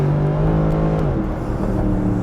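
Engine of a Mercedes-Benz SLS AMG Roadster convertible roars loud and close, holding a steady growl before the pitch drops and shifts into a deeper rumble, with no talking.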